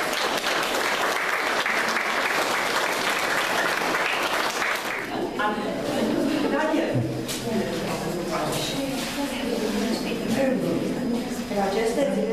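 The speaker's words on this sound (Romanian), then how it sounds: "Să-i aplaudăm pe artiștii fotografi." Audience at a photography exhibition opening applauding the photographers, dense sustained clapping that fills the first few seconds, then a voice speaks over fading background sound.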